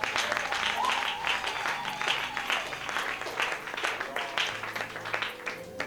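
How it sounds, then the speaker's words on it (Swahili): Church congregation applauding for Jesus: sustained, dense clapping from a large crowd across the whole stretch, steady and fairly loud, with a faint voice underneath at times. "Kwa jina la Yesu, pigie Yesu makofi."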